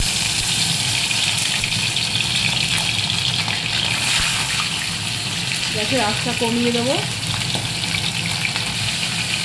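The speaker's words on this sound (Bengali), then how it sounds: "মাছগুলো ভীষণ পরিমাণে ফুটছে তেলের মধ্যে" Fish sizzling vigorously in hot oil in a home kitchen pan, a loud continuous hissing crackle throughout, with someone speaking briefly partway through.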